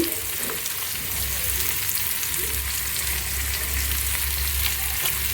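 Teasel gourd (kakrol) slices fry in a pan of oil with a steady, loud, dense sizzle that runs unbroken throughout, with no voices over it.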